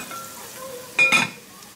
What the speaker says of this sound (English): I'm just going to fry these up just a little bit to soften them